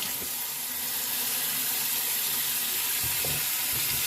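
A water tap runs steadily into a sink for rinsing off after a straight razor shave, a close, even rush of water with a few faint knocks underneath.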